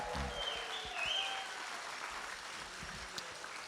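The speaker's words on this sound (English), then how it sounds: "Let's give a loud round of applause to Kinetic." Audience applause for a sponsor at the 5 Across event, a steady wash of clapping from a crowd that holds evenly and tapers slightly toward the end.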